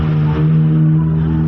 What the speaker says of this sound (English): That car was so small, but it's so noisy.